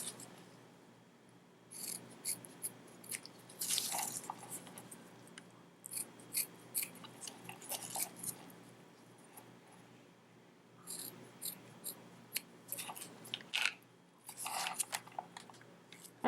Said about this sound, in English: Last thing you're going to want to do is just trim these down to the width of your zipper.